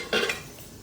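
A single brief metallic scrape of a spoon stirring in a cooking pot, close and clear, then quiet background.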